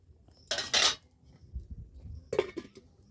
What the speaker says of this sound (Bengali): পটলগুলো দিয়ে আমি এবার একটু ঢাকনা দিয়ে দিচ্ছি